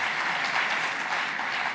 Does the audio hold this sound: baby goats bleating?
no